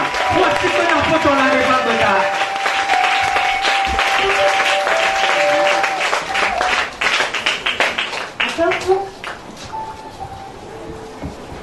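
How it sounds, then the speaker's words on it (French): Church congregation applauding and cheering in praise, a dense wash of clapping and voices filling the hall, with shouts and a sustained sung or called tone over it, thinning into scattered claps near the end. "Acclame le Seigneur très fort."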